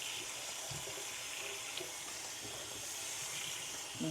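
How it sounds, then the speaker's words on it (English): Tap water pours steadily into a kitchen sink over rinsed noodles, a continuous splashing hiss with faint clinks, heard alone. "I'm just turning my water down."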